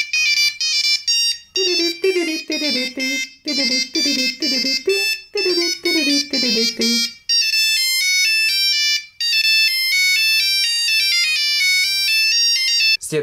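Mozart melody ringtone played through the small side speaker of a Nokia 3310, bright and loud tones in quick repeated phrases, then a higher sustained run of notes, heard alone.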